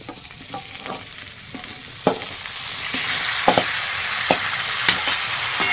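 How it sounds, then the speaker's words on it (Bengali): Bottle gourd greens and chopped capsicum sauté in a hot pan, a steady sizzle broken by repeated sharp scrapes and clacks of a spatula, fairly close with no talk. "আমি লাউ শাকটা দিয়ে একটুখানি সাঁতলে নিয়েছি"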